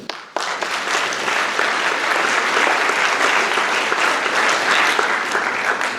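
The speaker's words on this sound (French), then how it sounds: "vous pouvez également tous les applaudir" An audience at a student citizens' day for nursing students, about living organ donation, breaks into sustained applause that stays steady and full for several seconds after a sharp start.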